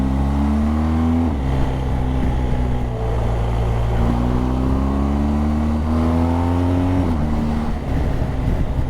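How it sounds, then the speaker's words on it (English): Racing motorcycle on the Isle of Man TT course, its engine loud and close with a high rising whine that drops sharply as it passes, then climbs again through a gear change and falls away, with no talk. "There's another bike coming around the corner like that."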